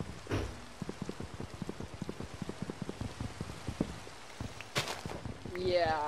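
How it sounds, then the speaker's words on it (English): Steady rain from the Minecraft video game patters and ticks in a fast, even run of soft drops, with a brief heavier burst near the end. "it's still raining though"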